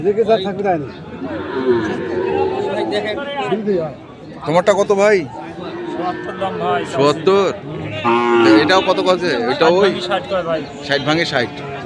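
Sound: Sahiwal cattle mooing at a livestock market

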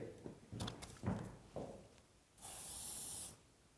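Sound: hair spray being sprayed on hair

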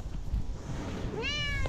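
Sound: cat meowing

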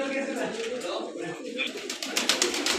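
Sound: pigeons cooing in a home loft

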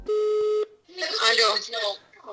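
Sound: telephone dialing a realtor

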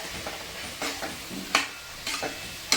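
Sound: bottle gourd and spice paste mixture cooking in a pan

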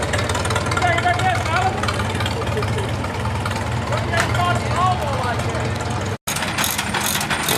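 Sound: hit-and-miss kerosene engine running

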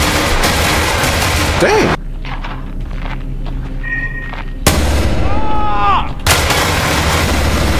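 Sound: gunfire in the Roblox video game Hellmet

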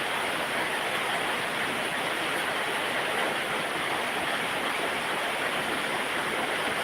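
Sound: heavy rain

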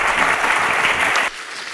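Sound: congregation clapping in church

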